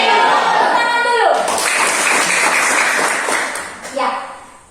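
A classroom of students claps hands together in a dense, lively burst lasting a few seconds, with a teacher's voice speaking just before and briefly after.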